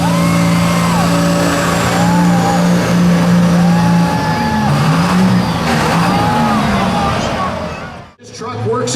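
A Ford Super Duty pickup roars at full throttle while pulling a sled down a truck-pull track, its loud engine drone steady and harmonic before the sound cuts off abruptly near the end, with crowd chatter and an announcer mixed in.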